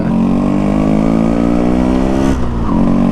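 A Yamaha RX100 two-stroke 100cc motorcycle engine revs hard and loud up close, pitch climbing steadily before dropping sharply, then picking up again.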